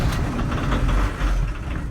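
Air-cooled VW T25 T3 Westfalia pickup engine running just after starting following a six-month winter rest, a rough, close idle that rumbles continuously without talk.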